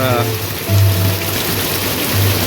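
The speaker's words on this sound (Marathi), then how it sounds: "आज रविवारचा दिवस इतका पाऊस आहे" Heavy rain pours steadily over a village during a downpour, making a dense continuous hiss with water running loudly, and low bursts of wind or handling noise come and go close by.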